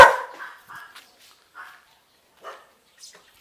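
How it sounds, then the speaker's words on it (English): A dog barks once, loud and close, then several fainter, scattered yips and noises follow with pauses between them. "Lovely dog."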